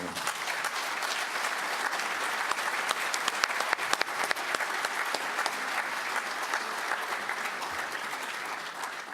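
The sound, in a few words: audience applause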